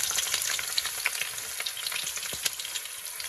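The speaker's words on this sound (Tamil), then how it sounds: "வெங்காயம் பார்த்தீங்கன்னா நல்லா பொன்னிறமாக வதங்கணுங்க" Two sliced onions fry in oil for prawn biryani, a dense, continuous crackling sizzle with quick stirring scrapes, close and steady, with no voices.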